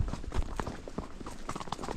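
A horse's hooves clip-clop in a steady walking rhythm of distinct thuds, close by and moderately loud, with little else around.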